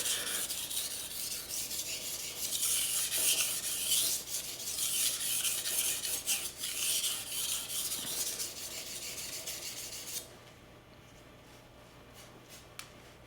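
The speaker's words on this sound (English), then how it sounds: "As long as you hold the proper angle and don't wobble the knife too much, sharpening really will become a lot more joyful for you." A kitchen knife drawn across a stone from an eight-piece sharpening set, a continuous close gritty rasp of strokes for about ten seconds, then near quiet with one small click.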